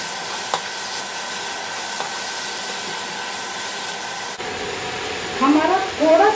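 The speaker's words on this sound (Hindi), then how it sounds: "इसे थोड़ी देर हमें ऐसे घी के साथ फ्राई करना है।" Raw papaya sizzles steadily in hot ghee, a continuous close hiss that shifts partway through as a voice begins talking over the frying.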